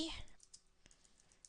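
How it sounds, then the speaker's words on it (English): Soft, rapid keystrokes tap on a computer keyboard as a search term is entered, a quick string of light clicks after a brief louder burst at the start. "in the search bar, I'm typing in foreign currency"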